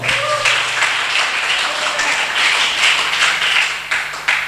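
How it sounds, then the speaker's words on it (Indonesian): An audience applauding at a talk on the metaverse, NFTs and crypto for santri students, steady dense clapping throughout, fairly close and loud, with some voices mixed in. "Tepuk tangan dulu."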